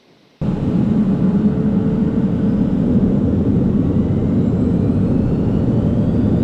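A steady, loud roar of a 2025 Cessna Citation M2 Gen 2 business jet's engines at takeoff power, a broad sustained rumble with a faint rising whine, starting abruptly and holding constant.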